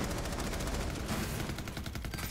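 Rapid automatic gunfire in Rainbow Six Siege, a dense, unbroken rattle of closely spaced shots that stays loud throughout.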